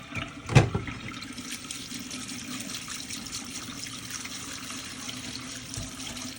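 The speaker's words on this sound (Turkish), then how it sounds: "Güzelce yıkıyorum saplarını. E, çamuru gitsin diye eğer varsa üzerinde." Kaldirik plant stalks are washed by hand in a basin of water, giving a continuous soft trickling and sloshing with a brief louder splash near the start, moderately close and without talk.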